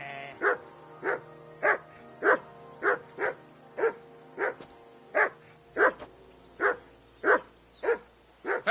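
A dog in Kingdom Come Deliverance 2 barks in a steady, evenly spaced series of about a dozen loud, close barks, alone and without talk.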